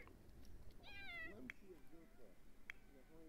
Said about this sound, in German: Ein kleines Kätzchen. Was ist mit dem kleinen Kätzchen?